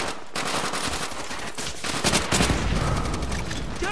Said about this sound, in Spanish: ¡Ametralladora japonesa!